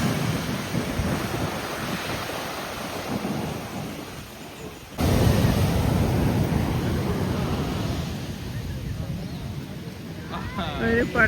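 Sea waves break at Kollam beach, a broad, continuous roar of surf with gusts of wind buffeting the microphone and a sudden surge halfway through.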